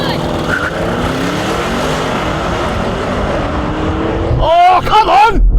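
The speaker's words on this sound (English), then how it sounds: "That was a good launch! Oh, bit of a skip into second gear." An Audi RS6 estate launches hard in a drag race, its engine roaring loud and continuous with a rising note, then a quick shift into second gear near the end, with a voice talking over it.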